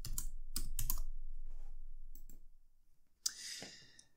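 Quick bursts of clicking keystrokes on a computer keyboard, close and fairly loud, trailing off into softer taps and a final sharp click.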